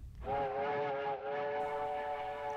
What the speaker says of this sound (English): I hear the train whistle.